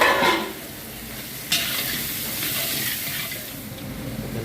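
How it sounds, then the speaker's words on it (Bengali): Semolina tossed into hot oil and lightly fried while being stirred, a steady close sizzle with scraping strokes and a sharp burst as more goes in, no voices. "এরপর এখানে আমি সুজিটা দিয়ে দিচ্ছি। সুজিটা হালকা ভেজে নেবো আর কি।"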